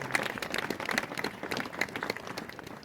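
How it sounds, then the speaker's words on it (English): A crowd claps in a sustained round of applause at a jetty blessing ceremony, a dense spread of hand claps that holds steady at moderate volume throughout. "Can we all give them a round of applause"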